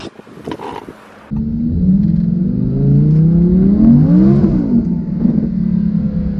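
A 610 HP Audi R8 V10 Plus revs loudly under acceleration, its engine note climbing steadily through the gears, close and powerful, after a short quieter moment.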